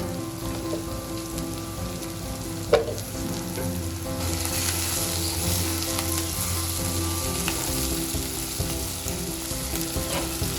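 Okra stir-fry with curry leaves in a pan, a continuous loud crackling sizzle like rain, with one sharp clink early on and the frying swelling a little partway through.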